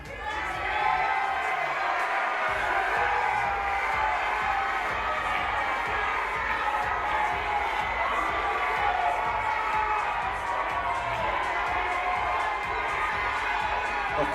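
A large crowd at a Mrs World 2022 pageant cheers and shouts continuously for a semifinalist, a loud, dense roar of voices with whoops that holds steady throughout.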